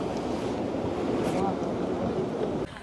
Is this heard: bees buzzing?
no